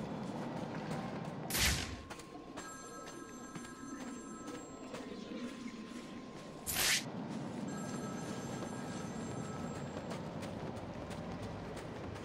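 A telephone rings in a Batman: Arkham City game scene, two short bright bursts about five seconds apart over a steady hum of background game ambience, with no speech.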